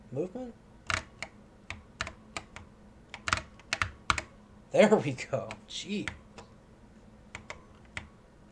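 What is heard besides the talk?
pressing keys on an Apple IIe computer keyboard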